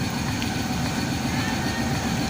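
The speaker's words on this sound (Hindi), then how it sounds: "ये ग्रीन लाइन का इंजन" Loud, rumbling noise of a Green Line locomotive at Chaklala railway station, Pakistan, fills the short stretch, a steady mechanical drone with faint rail clatter, close by.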